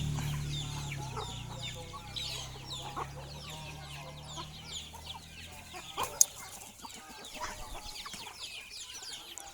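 A flock of young farm chickens keeps up scattered clucks and chirps at moderate distance, with a low drone early on, a sharp knock near the middle and continued calling after it.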